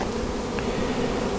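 Honeybees shaken from hive frames fill the air with a dense, steady buzzing drone, close and continuous with no voices.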